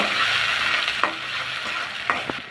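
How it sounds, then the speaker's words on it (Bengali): Chopped tomato sizzles steadily in a pan of lightly fried spice paste, with a few sharp scrapes of a spoon stirring through the constant close frying hiss. "টমেটোটা একটু ভেজে নিব"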